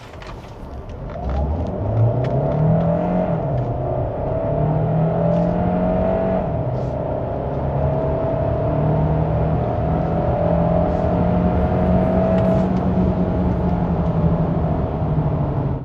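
A 2025 Kia Sorento hybrid accelerates hard from a standstill to 100 km/h, its engine climbing in pitch through several gear shifts with a steady interior drone and no voices.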